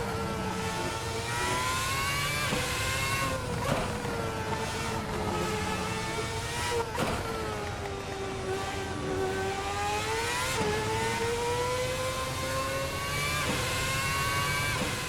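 A Ferrari F10 Formula 1 car engine in a racing video game screams at high revs, pitch climbing and dropping through repeated gear shifts, loud and continuous with no talk.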